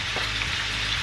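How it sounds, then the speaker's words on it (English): Shrimp and garlic sautéing in a pan, a steady, loud, close sizzle that hisses continuously without pause. "we're going to saute it in this pan with our garlic"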